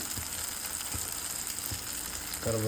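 Curry leaves and spice masala fry in a pan for a goat blood gravy, giving a steady close sizzle with a few soft stirring knocks and a louder burst at the end.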